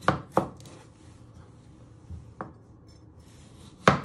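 A knife chops through potatoes on a cutting board for winter vegetable soup, giving several crisp close thunks in an uneven rhythm with short quiet gaps between cuts.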